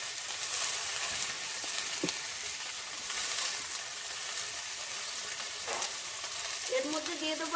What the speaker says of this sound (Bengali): এর মধ্যে দিয়ে দেবো আমি স্বাদ মতো লবণ, হলুদ গুঁড়ো দিয়ে আমি ভালো করে ভেজে নেবো কুঁদরিটা।